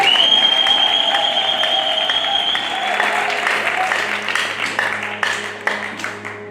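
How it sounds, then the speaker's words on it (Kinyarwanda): Sustained applause from a crowd of guests at a wedding ceremony, dense steady clapping that fills the space and slowly thins toward the end, with a faint voice and a high electronic tone underneath. "Reka tubikomere amashyi kuko bimeze neza."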